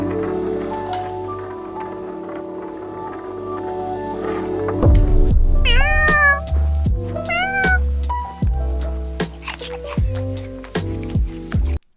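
Cats meow several times in a row, with sharp rising and falling cries near the middle, over a background of sustained music-like tones and scattered soft clicks.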